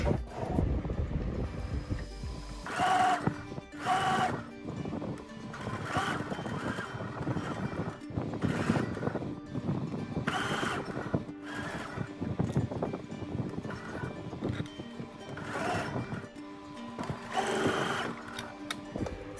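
A sewing machine stitches a kameez sleeve in repeated short bursts of rapid whirring, separated by brief pauses, close and clear with no talking.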